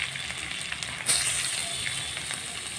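Garlic paste fries with onions in a hot pan, giving a steady close sizzle and crackle throughout with a brief stir-like burst about a third of the way in, and no voices.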